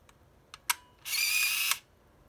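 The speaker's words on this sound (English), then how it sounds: "So you saw the lens open up and the motor advanced the film." A Nikon Nice Touch Zoom film camera clicks its shutter, then its motor whirs for about a second to advance the film, a short close mechanical buzz after a few small clicks.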